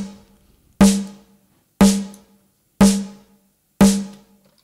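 Four evenly spaced hits of a synthesized snare drum patched in VCV Rack ring out loud and alone, each with a sharp bright crack, a short pitched body and a quick noisy decay.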